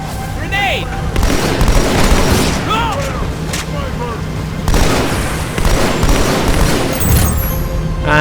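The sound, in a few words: grenade explosion in video game Halo 2 Anniversary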